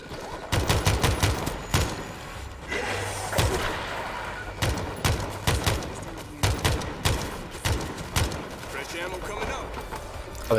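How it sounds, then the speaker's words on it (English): Repeated bursts of gunfire and thudding shots in the co-op zombie horde shooter World War Z Aftermath, loud and close, firing in clusters across the whole stretch while players talk over the shooting. "There's shots."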